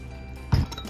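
A single short clink of a spoon against a container while sugar is stirred into hot water, one brief knock standing out over a quiet background.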